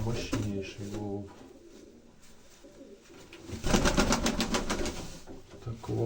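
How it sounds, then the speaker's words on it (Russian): Black pigeons coo in repeated throaty, rolling phrases close by, one louder burst rising in the middle, while someone talks intermittently over them. "Мощнейший голубь."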